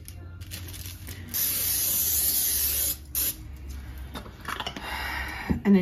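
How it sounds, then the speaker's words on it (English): Cooking spray hissing onto both sides of a tortilla in a home kitchen, a steady aerosol burst of about a second and a half followed by a shorter spray, with faint handling noises after. "It says you're supposed to spray both sides of your tortilla."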